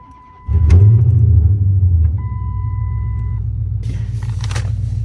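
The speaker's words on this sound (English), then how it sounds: "All right, nice little cold start." Chrysler 300C engine cold-starting: a sharp crank and catch, a loud flare of revs for about a second and a half, then settling into a steady low idle rumble.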